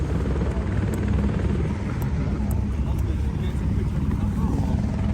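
A helicopter's steady, heavy rotor drone fills the scene, loud and close, with a constant low rumble throughout.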